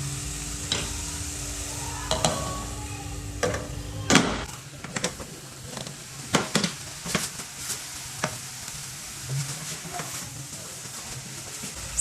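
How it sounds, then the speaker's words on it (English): Beef lasagna sauce cooking in a pan, giving a steady soft sizzle and bubbling under scattered clinks and knocks, likely a lid and utensils, with no talking. "we are going to cover this and let it simmer for 5 minutes."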